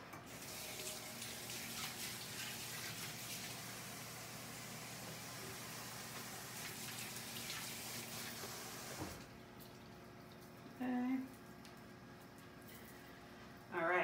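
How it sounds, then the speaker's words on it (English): Kitchen tap running steadily as hands are rinsed under it, a constant close rush of water that stops abruptly partway through, leaving quiet room noise and a brief clink. "I'm just gonna rinse off my hands."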